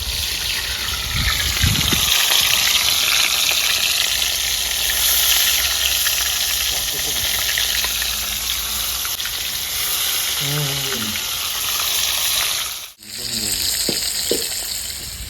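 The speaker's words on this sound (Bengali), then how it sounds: "তেলটা গরম হয়ে গেছে বন্ধুরা একটা একটা করে দিয়ে দেবো" Pieces of snakehead fish fry in hot oil, giving a loud, continuous close-up sizzle that spans the whole stretch, with brief stirring clatter and a short break near the end.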